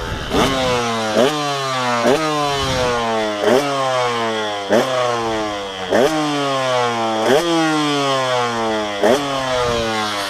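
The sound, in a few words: KTM 125 motocross bike engine warming up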